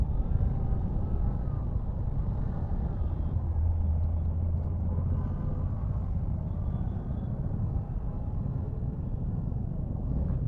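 Suzuki V-Strom 250 motorcycle ridden on a road, its engine a steady low drone with wind rumble at close range, even and continuous with no talk.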